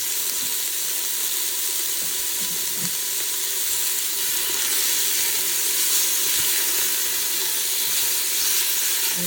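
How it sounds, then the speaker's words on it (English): Beef browning in melted fat at the bottom of an Instant Pot, giving a loud, continuous close-up sizzle and hiss with faint occasional stirring. "melt the fat on the bottom of your Instant Pot or whatever your stock pot is, instead of using vegetable oil."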